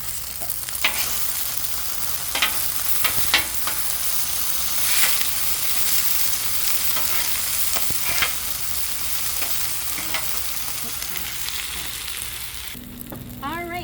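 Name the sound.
shallots and green onion stir frying on a Blackstone griddle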